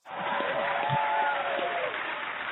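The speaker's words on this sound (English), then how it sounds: "We got the crowd applause and everything." Applause from a crowd welcoming a performer onstage at a live event, a steady dense wash of clapping that swells quickly and holds at a loud, even level throughout.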